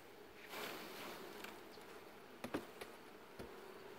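Honey bees buzz softly around an open hive during a spring queen introduction, a steady faint drone with a few sharper knocks and ticks of frame handling near the end.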